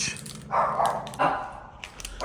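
A pet dog gives a few short close barks in a home, separate sharp yelps without any talk around them.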